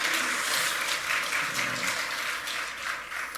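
Applause from a church congregation for a children's orchestra, a steady dense wash of clapping that runs the whole time without a break and stays fairly even in level.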